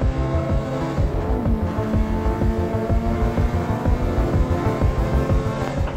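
A race car engine drones loud and steady at high revs from inside the car, with a rough, buzzing tone and slight pitch shifts.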